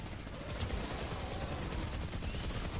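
Rapid automatic fire from a machine pistol in Fortnite Save the World, a steady dense rattle of shots running without pause for a few seconds, close and fairly loud.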